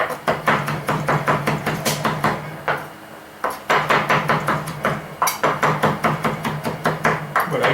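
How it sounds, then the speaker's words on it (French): A knife chops leeks on a wooden cutting board in a steady run of sharp, close knocks, pausing briefly before the rapid chopping resumes; a faint low hum runs underneath. "je vais hacher comme ça jusqu'à ce que ça atteigne la finesse que je souhaite"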